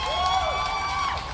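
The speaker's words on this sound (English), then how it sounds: "and we get some applause, too." Brief applause sound effect in a psychological horror visual novel game, a short burst of clapping mixed with tonal game music, moderately loud and without speech.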